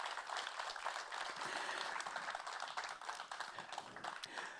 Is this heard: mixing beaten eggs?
no